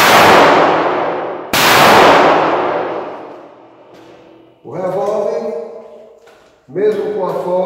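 Two close, loud .38 revolver shots crack about a second and a half apart, each trailing off in a long echoing decay, followed by someone talking.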